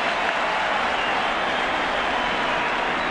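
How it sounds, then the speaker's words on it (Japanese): A packed stadium crowd at Coors Field applauds during the 1998 MLB All-Star Game, a loud unbroken wash of clapping and crowd noise with no speech. "その観客の間から大きな拍手が出ました。"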